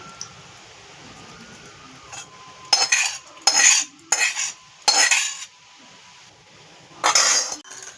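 Extra oil is poured into a jar of lemon oil pickle and stirred with a spoon, producing bursts of loud, close metallic scraping and clinking separated by short pauses, with no speech.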